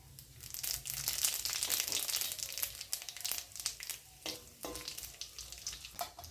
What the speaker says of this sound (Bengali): তেলটা আমি একটু নাড়িয়ে, এখন আমি এখানে একটা শুকনো লঙ্কা, গোটা জিরে আর রাঁধুনি ফোড়ন দিয়ে দিলাম